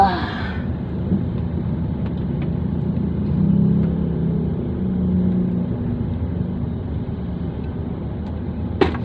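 Night road traffic, a low steady rumble of car engines passing and idling nearby, fairly faint, with a brief louder burst at the very start and a click near the end.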